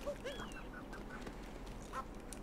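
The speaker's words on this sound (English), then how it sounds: "Come here, bird!" A bird squawks in Super Mario Odyssey: faint, brief honking calls over a low game background, with a few short squawks scattered through.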